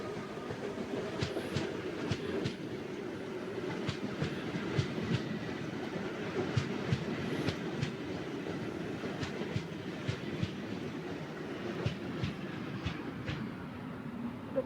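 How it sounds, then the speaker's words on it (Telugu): A train runs over rail tracks with a steady rumble and regular clickety-clack wheel beats repeating throughout, moderately loud and continuous, with no talk. "వాట్ ఏ ట్రాక్ సౌండ్, అసలు రియలిస్టిక్."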